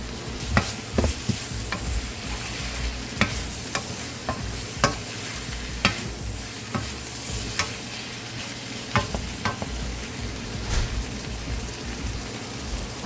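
Shrimp frying in a hot pan while being stirred for shrimp fried rice: a steady, close sizzle with repeated sharp clicks and scrapes of the utensil against the pan, no talking.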